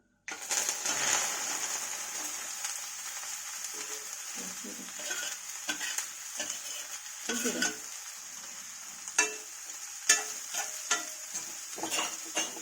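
Spinach crackles and sizzles in hot oil with popped mustard seeds, with scattered stirring clinks and scrapes from a spoon against the pan.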